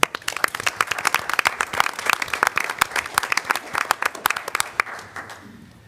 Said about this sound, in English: So we'll just give a hand clap for Juneteenth